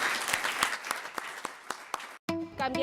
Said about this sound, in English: How about another round of applause for our three speakers?